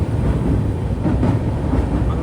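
The Kanniyakumari–Rameswaram Express crosses the Pamban bridge with a continuous low rumble and rolling rail noise, heard steadily from on board.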